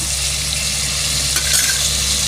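Onion, tomato and a green chili sauté in a pan, giving a steady, close, even sizzle with a faint clink of stirring near the end.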